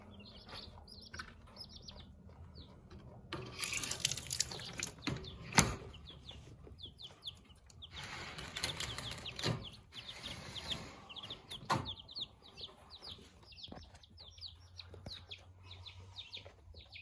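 Backyard chickens cluck and chirp softly at a distance, with scattered bird calls and a couple of louder bursts of rustling or wing flaps in a quiet outdoor setting.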